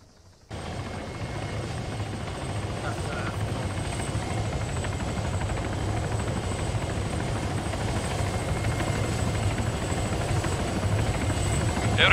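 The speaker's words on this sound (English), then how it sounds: "I hear a helicopter, I think." Military video game helicopter rotor chop and turbine whine starting abruptly and holding steady and loud, close by, with faint voices underneath.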